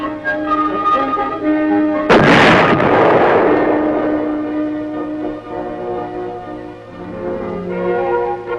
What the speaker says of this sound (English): record the motion of the gun barrel with respect to the entire vehicle as the projectile leaves the muzzle and the weapon recoils